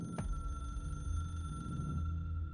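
A telephone rings in the video game Control, one faint electronic ring tone sounding alone over a low steady hum, with a short click at the start.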